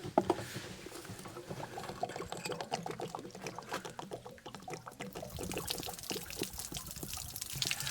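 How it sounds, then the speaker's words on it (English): Water drains from an RV hot water heater after its anode plug is pulled, a steady splashing, trickling pour with irregular patter that runs unbroken and close by for several seconds. "Now let's empty out the hot water heater."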